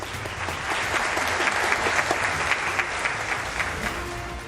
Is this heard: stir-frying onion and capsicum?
no